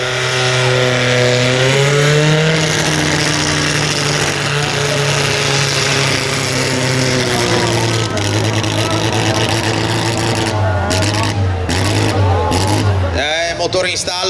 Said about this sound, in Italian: Motore in stallo, purtroppo, sentite, non è riuscito a liberare tutti i suoi giri